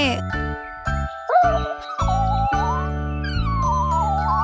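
Cartoon puppies whimper and cry in short, tonal bursts over a bright jingling music bed, several small voices overlapping close and fairly loud throughout.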